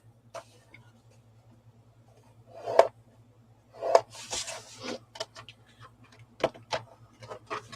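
A bone folder or stylus scoring a half-inch line into paper on a scoreboard, heard as a few short dry rubbing strokes and scrapes at close range with quiet gaps between them.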